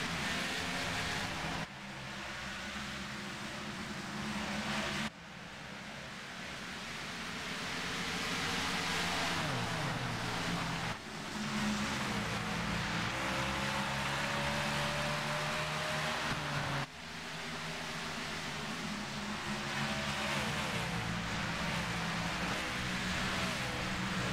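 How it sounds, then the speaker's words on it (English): Loud, continuous roar of many stock car engines circling the oval track at Bristol, rising and falling as packs of cars pass. "let's hear how loud these cars can get"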